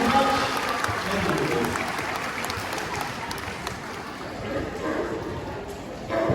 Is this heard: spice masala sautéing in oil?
no